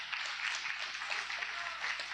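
A church congregation claps for a couple of seconds, a soft, fairly distant patter of many hands with slight swells, heard alone without speech.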